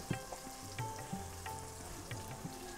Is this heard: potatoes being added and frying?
yes